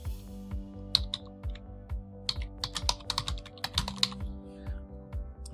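Fingers tap out text on a computer keyboard in an uneven burst of close clicks, sparse at first and then quicker, over a low steady hum with no talking.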